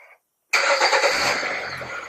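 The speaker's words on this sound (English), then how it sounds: "Start engine, then press connect." Car engine cranks and catches abruptly after a short pause, settling into a steady, fairly loud running note close by with no one talking.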